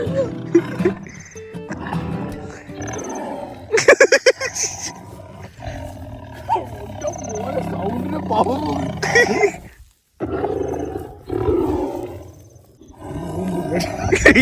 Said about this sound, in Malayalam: ഇത് സിംഹത്തിന്റെ സൗണ്ട് ഇട്ട് പശുവിന് ഓട്ടിക്കുന്നു.